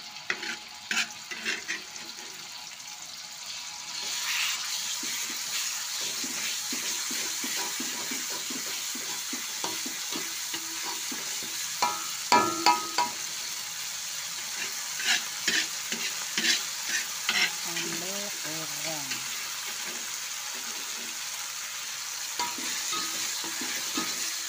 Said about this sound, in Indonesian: sambal ini mau tak goreng pemirsa